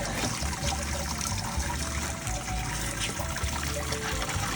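Water trickles and drains steadily out of a lifted Grainfather grain basket after a two-hour mash for a German Helles homebrew, a close, continuous splashing dribble into the liquid below.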